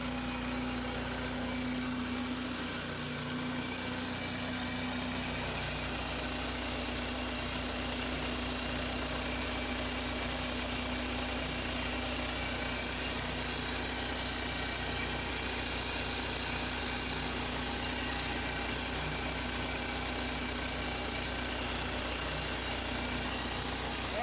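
A Case 580 Super D backhoe diesel engine idles at a steady, droning, even pitch with a constant mechanical hum, close and loud, with no talking.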